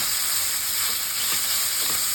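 Onions and green chillies fry with masala and cardamom and cumin in a cooking pot, a dense steady sizzle and hiss heard up close, with faint stirring touches and no voices.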